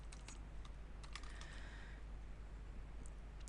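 Quick bursts of typing on a computer keyboard while a label is entered in SPSS, light clustered key clicks over a low steady hum, close and quiet with no talking.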